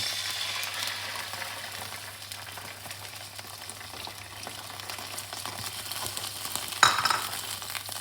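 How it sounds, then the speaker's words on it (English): Milk going into hot ghee in a pan while making mango-flavoured peda gives a steady, moderate sizzle throughout, with a brief sharp clink near the end. "Once the ghee is spread all over the pan, put all the milk in."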